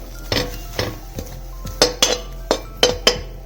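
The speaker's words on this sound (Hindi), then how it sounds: "अब हम इसे किसी कटोरी में निकाल लेंगे" Roasted sesame seeds scraped out of a pan into a bowl, heard as a series of sharp metallic scrapes and clinks, about eight irregular strikes close up over a low steady hum.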